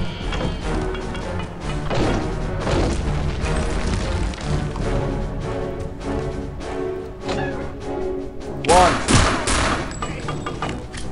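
Sustained gunfire and explosive blasts from the Wolfenstein video game, dense and loud throughout, with a sharp burst of a grenade-like boom near the end; a voice speaks over the combat.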